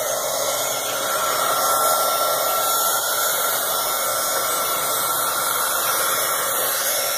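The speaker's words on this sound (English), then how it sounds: "Now I'm just going to take my heat gun" A heat gun blowing steadily for card embossing, a loud, close, even whooshing hum held for several seconds with no talk.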